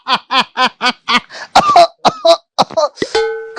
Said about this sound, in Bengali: কাশিটা বড্ড বাড়িছে